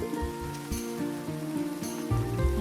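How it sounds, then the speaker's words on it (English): Steady rain patters in the farming video game Grimshire, a continuous soft wash with faint recurring chime-like blips from the game over it and no talking. "It's raining, so I don't need to water the plants, but I can harvest them."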